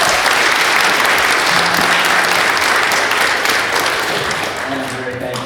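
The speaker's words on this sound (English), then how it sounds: "Please give him a round of applause." Loud, dense applause from a concert audience fills the whole stretch evenly, easing slightly near the end, with faint voices mixed into the crowd.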